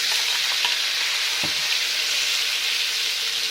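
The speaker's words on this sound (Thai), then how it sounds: "ใส่หมูลงไปครับ คั่วครับให้หอมเลยนะ" Pork and chili stir-frying in a hot pan for a pumpkin curry give a steady, loud, close sizzle with a few brief stirring scrapes and no talk.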